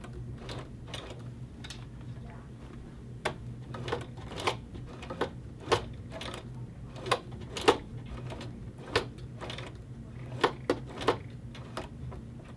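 A sewing machine is turned slowly by its hand wheel near zipper teeth while stitching a hoodie neck facing, giving soft, close mechanical clicks and ticks at an uneven, unhurried pace over a faint background hum.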